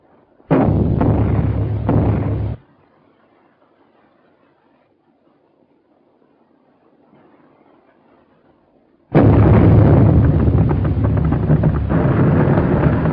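Loud, heavy bomb blasts from a 1930 war drama, two roaring bursts of explosions and rumbling detonations, separated by a quiet lull of faint low rumble, with no talking.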